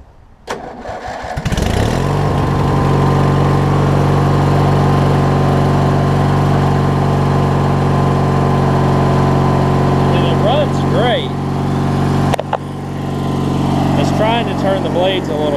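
An MTD Yard Machines riding mower from the 1990s cranks briefly, catches and settles into a loud, steady engine drone close by, with a short interruption and some voice heard over the running engine.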